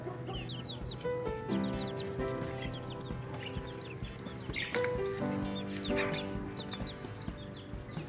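Hens clucking steadily throughout on a home poultry setup, a busy flock of several birds with overlapping calls and occasional higher squawks, close and fairly loud with no talk over them.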